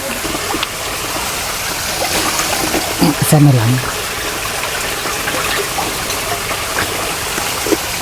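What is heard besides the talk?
washing wild food in running water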